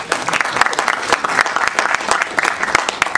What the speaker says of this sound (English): Maybe we must give them a round of applause.